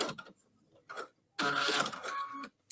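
Short bursts of an electric sewing machine stitching a quarter-inch seam on fabric for an Easter carrot craft, starting and stopping in a few quick runs with quiet gaps between.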